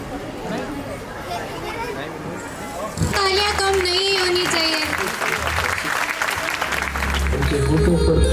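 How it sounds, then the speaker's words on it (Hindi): An audience applauds at a school annual function, with a steady patter of clapping mixed with crowd chatter before music with a clear tone comes in over the continuing applause. "तालियां कम नहीं होनी चाहिए।"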